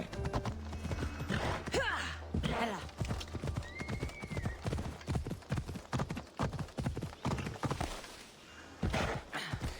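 Rhythmic clip-clop of horse hooves trotting close by in Assassin's Creed Odyssey, with a horse whinnying early on and occasional brief voices.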